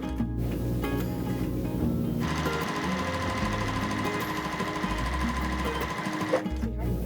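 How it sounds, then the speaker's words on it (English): A domestic sewing machine stitches quilt half square triangles in a steady, continuous mechanical whir that runs loud and close through nearly the whole stretch, pausing only briefly near the end. "I'm gonna go ahead and get these sewn."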